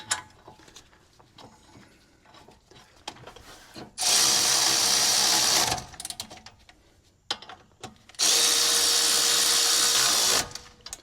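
Two sustained bursts of a loud, high-pitched power tool whirring while tightening bolts during a brake replacement on a 2011 Chevy Tahoe, each lasting about two seconds, separated by quieter clinks and mechanical handling noises.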